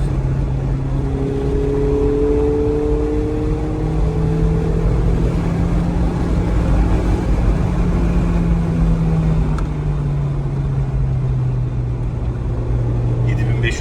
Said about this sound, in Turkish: devir çeviriyor